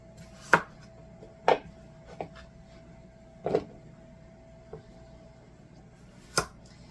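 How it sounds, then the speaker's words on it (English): Potatoes being cut into chunks by hand, a handful of sharp knife thuds on a board spaced irregularly over a quiet room. "I'm going to take these, and I'm going to chop them up into chunks"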